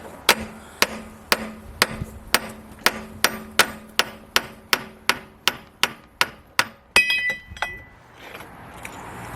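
Metal hammer blows ring out in a steady, evenly spaced series of about fifteen sharp, close strikes, ending with a brief clinking metallic rattle; no one talks.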